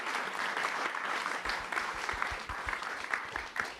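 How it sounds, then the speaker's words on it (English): An audience at a Brighton AI innovators event applauds the panel with dense, sustained clapping that carries evenly through the moment. "Can we have a big round of applause for our panel, please?"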